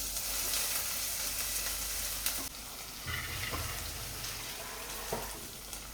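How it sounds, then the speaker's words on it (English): Garlic and onion frying together in a pan, a steady close sizzle running throughout with a few brief clatters and stirring knocks. "Fry the garlic and the onion together."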